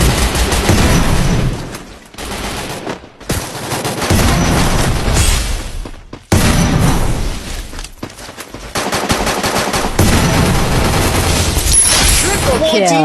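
Rapid automatic gunfire from the mobile shooter game Free Fire, loud dense bursts with brief gaps and a few heavy booms, with game sound effects throughout and no talking.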